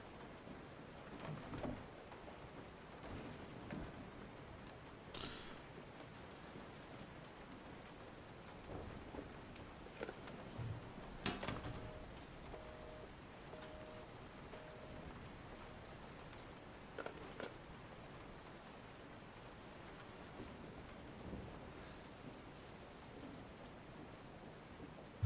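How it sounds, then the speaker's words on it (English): Steady rain falls outside in the video game Resident Evil 7, a quiet, continuous hiss of patter with a few faint louder splashes and a soft low rumble, no voices present. "Oh, it's raining outside."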